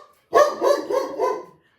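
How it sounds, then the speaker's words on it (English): A dog barks four times in quick succession, close and fairly loud, with no talking around it. "I apologise if you can hear a dog barking."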